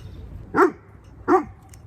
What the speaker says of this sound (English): He was barking and crying that he wanted to come in with me